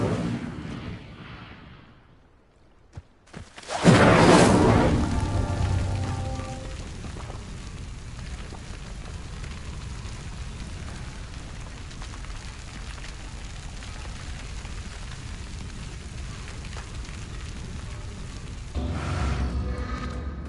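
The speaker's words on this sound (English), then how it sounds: "Clearly, all three of these pyres are meant to be lit. Incendio!" Incendio spell cast on pyres in the Hogwarts Legacy-style game Hogwarts Story: a sudden loud fiery whoosh bursts in after near silence, then settles into a steady crackling flame roar that carries on to the end.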